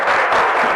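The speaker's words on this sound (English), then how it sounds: "if you continue to clap" An audience at a village League of Women Voters candidates' night in Ridgewood claps in a short, loud, dense burst of applause that fills the room.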